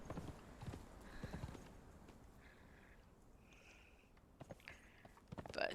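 Horse hooves clip-clop at a steady riding pace in a video game, with a neigh and faint snorts over soft ambient sound.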